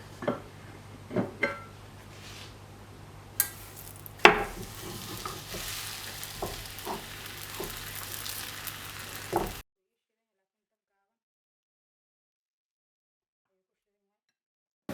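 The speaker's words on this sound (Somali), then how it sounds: "marka ukunta hadda ku walaaqaya." Eggs are stirred and scraped in a sizzling frying pan, with a few sharp clinks of a utensil; the sound cuts to silence partway through.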